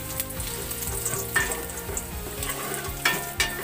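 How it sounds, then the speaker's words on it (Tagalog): Garlic and ginger sauté in a pan for ginataang tilapia, a close, steady sizzle with a few sharp spatula taps near the end and no talking. "Ayan, nagigisa na ako ng bawang at luya."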